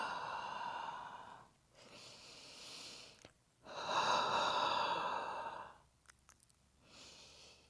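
Slow, deliberate breaths in and out during a hip-focused yoga session, three long audible exhales and inhales separated by brief pauses, close and fairly soft with no talk.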